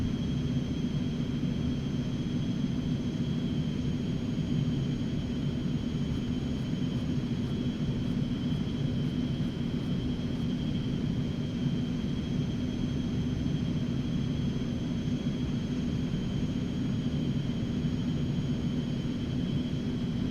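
A small propeller airplane's engine idles steadily while held on the brakes before takeoff in the X-Plane 11 flight simulator, a constant loud droning hum with a steady tone, unbroken throughout and without speech.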